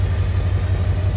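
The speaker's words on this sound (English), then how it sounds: "she's been idling for about 15-20 minutes now, and I'm not seeing anything wrong with it" A 1952 Cadillac engine idles steadily after running about fifteen to twenty minutes, a continuous low rumble with faint high hiss, close and even throughout, no talk.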